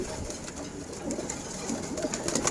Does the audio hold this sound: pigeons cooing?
yes